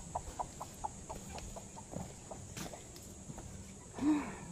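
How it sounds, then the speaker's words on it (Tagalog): Hens drinking at a chicken drinker cluck softly in a short, steady series of low calls, close by, with a slightly louder vocalization near the end. "Umiinom na yung manok, yung inahin."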